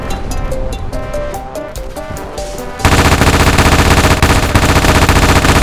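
Gunfire from a weapon in the video game Ravenfield: a stretch of background music with rhythmic hits gives way to loud, dense, continuous automatic fire that fills the second half without pause.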